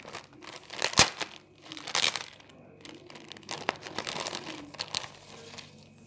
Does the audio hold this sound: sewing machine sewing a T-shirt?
no